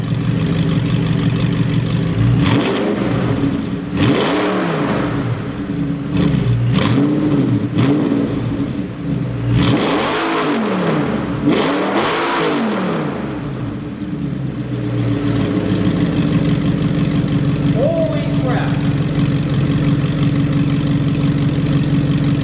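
A loud, raspy Audi R8 engine with straight-piped exhaust idles, then revs hard several times in rising and falling bursts before settling back to a rough idle.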